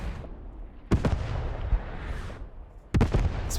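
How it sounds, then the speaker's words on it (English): Artillery shells explode in the Post Scriptum war game, two heavy booming blasts a couple of seconds apart with rumbling, crackling tails, loud and fairly close amid ongoing battlefield noise. "That is a huge artillery blast right there, man."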